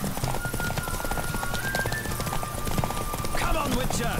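A horse gallops in The Witcher video game with a rapid, steady clip-clop of hooves at close range, mixed with game ambience and a voice talking over it.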